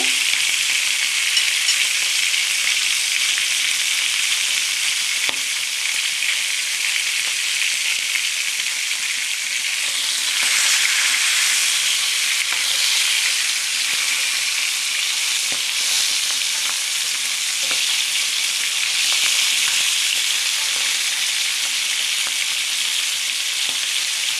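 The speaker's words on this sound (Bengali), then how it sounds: "এবার বাকিটা ভাজা হচ্ছে" Steady, loud sizzling of food frying in hot oil, continuous crackle with occasional pops and stirring, no talking.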